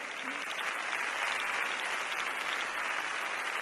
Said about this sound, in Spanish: La obra resulta un éxito y el público aplaude puesto en pie.